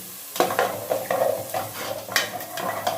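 Chopped onion stirred and cooking in a pot for egusi soup made without oil: a spoon scrapes and clinks in quick, uneven strokes over a faint steady sizzle, close and fairly quiet.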